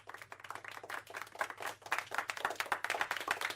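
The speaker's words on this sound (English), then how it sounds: "Very polite golf clap." A small, polite golf clap in a podcast studio, a light scattering of hand claps at an uneven rhythm, fairly close and soft, with no talking over it.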